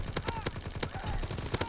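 Rapid bursts of Type 100 submachine gun fire in Call of Duty WW2, several short sharp volleys in quick succession, close and loud, with faint game noise between shots.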